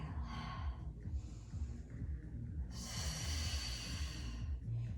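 Steady, audible breathing in and out during a mat exercise class, with long breaths running continuously over a low background hum and no talking.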